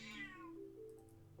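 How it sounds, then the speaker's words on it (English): A single short, whiny cat meow heard up close, falling in pitch before fading into a quiet room with a low hum. "Why are you meowing?"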